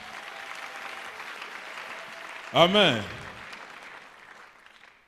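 A church congregation at a mass prayer gathering breaks into applause for the Lord, broad clapping swelling under a short spoken exclamation and then fading away over a few seconds.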